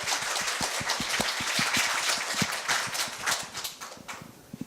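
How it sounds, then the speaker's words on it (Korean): Dense, sustained audience applause at a 2018 middle school speech festival at Korea University, many hands clapping steadily and loudly before thinning out near the end. "큰 박수 주세요"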